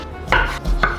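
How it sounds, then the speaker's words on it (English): A kitchen knife slices through zucchini and cherry tomatoes on a cutting board, two sharp close chops about half a second apart, loud and clear with no talk. "Slicing up one zucchini and cutting a large handful of cherry tomatoes in half."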